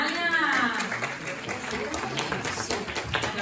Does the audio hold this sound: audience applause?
yes